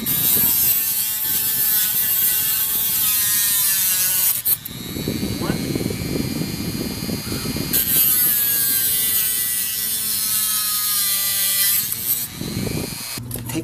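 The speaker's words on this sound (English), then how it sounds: "Now what I'm going to do with the Dremel, I'm going to cut off these" A Dremel rotary tool cutting small pieces off HO scale model railway track whines loudly and close in two long bursts, with a quieter pause between them.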